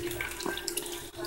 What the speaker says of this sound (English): I rinse out the cans because I want to get all the tomato-y